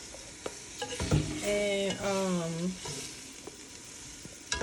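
Vegetables for a vegan gumbo sizzle and sweat in a pot, a close, steady frying hiss with stirring clatter, while a voice speaks briefly over it.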